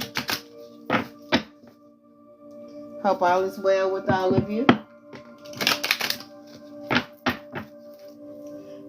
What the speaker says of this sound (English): I've already cleansed the decks, so I'm going to go ahead and shuffle.